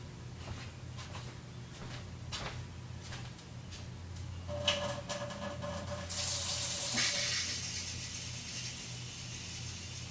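Water running from a tap into a water can, a faint steady trickle that swells into a louder rushing fill partway through, with small mechanical clicks and no talk.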